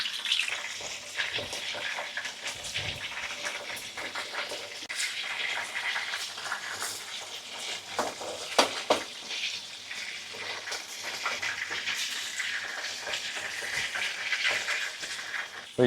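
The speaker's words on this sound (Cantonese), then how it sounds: "之後擠羊角豆，你煎香佢先" Okra fries in a pan with a continuous bright sizzle and crackle and occasional stirring scrapes. Fairly close and steady throughout.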